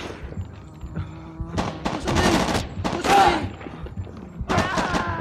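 Gunfire in the video game Shellshock 2: Blood Trails, with repeated bursts of rapid shots and heavy thuds coming in waves, close and fairly loud, mixed with scattered shouting voices.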